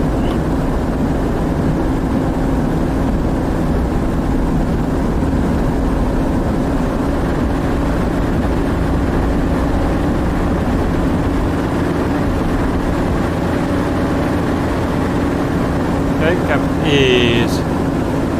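A simulated FW-190 A-8 piston engine drones steadily just after takeoff in DCS World, a continuous low roar at even loudness, with a brief higher click or tone near the end.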